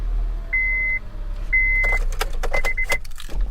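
A used car on an auction lot: a few electronic chime tones as the key goes in, then the engine cranks and catches, followed by a steady low idle rumble up close.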